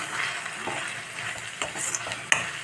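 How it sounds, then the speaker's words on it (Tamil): Coriander thokku sautéed in oil gives a constant soft sizzle, broken by scraping strokes of a spoon and a few light clicks against the pan. "கொஞ்சம் நேரம் வதக்கி எண்ணெய் பிரிஞ்சு வர அளவுக்கு வதக்கிக்கலாம்"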